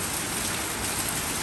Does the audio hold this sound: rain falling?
yes